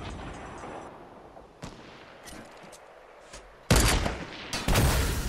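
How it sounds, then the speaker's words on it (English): Gunfire in Fortnite: scattered, distant single shots at first, then a loud, close flurry of cracking shots near the end. "shooting east in front of us"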